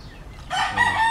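A White Kelso rooster crows loud and close, one harsh, rising call that starts partway through and carries to the end.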